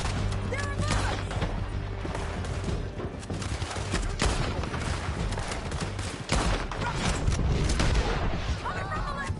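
Gunfire in the Red Dead Redemption 2 video game: dense, rapid volleys of shots crackling continuously with loud booms, mixed with voices and a steady low game backdrop.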